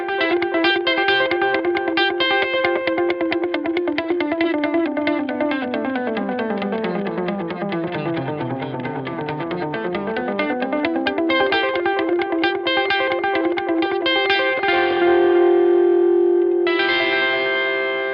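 Electric guitar notes through a dotted delay effect repeat in a rhythmic, cascading echo pattern, building a pulsing, synth-like stream of sound that sweeps down and back up in pitch.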